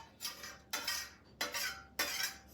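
A metal spoon scrapes homemade kajal out of a vessel into a container, making four bright, scratchy scoops in a regular rhythm at close range with short quiet gaps between them.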